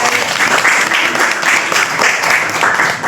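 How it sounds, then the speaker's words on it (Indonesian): Applause at a school reunion event in Depok, honouring former teachers, a steady crowd of hands clapping loudly and continuously with a rhythmic swell, no one speaking over it. "tepuk tangan guys"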